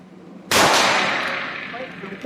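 A single loud, sharp gunshot from a Taurus 605 .357 revolver with a two-inch barrel, a sudden blast trailing into a decaying echo over about two seconds, preceded by a quiet lead-in and no speech.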